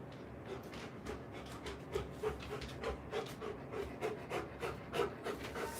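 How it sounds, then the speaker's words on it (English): A hot Rottweiler pants steadily indoors, with quick rhythmic breaths that pulse evenly at close range and no talking over them. "my Rottweiler just came in the room"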